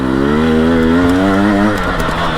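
A dirt bike engine revs hard and close on a single-track trail, a loud steady buzzing drone whose pitch climbs and then falls away as the rider works the throttle.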